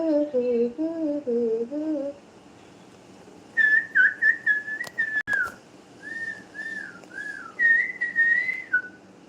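A person whistles a melody in short, lilting phrases during a live stream while calling a cat. The first phrases are lower, followed by brighter, higher phrases separated by brief pauses, clear and fairly close.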